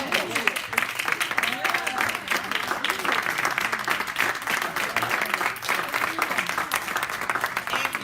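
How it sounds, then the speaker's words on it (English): A church congregation applauds and claps steadily throughout, a dense, continuous wash of hands at moderate volume, with voices talking and calling out underneath. "Let's just give him a real good hand clap."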